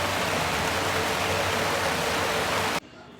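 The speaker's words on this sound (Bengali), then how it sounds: "বাইরে মুষলধারে বৃষ্টি হচ্ছে" Heavy rain pours steadily outside on a long wet afternoon, a dense, even hiss close by that runs unbroken for nearly three seconds before cutting off abruptly into a much quieter room.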